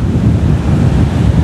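Surf on the beach at Kuta, Bali, heard as a loud, continuous low roar of waves with heavy wind buffeting the microphone throughout.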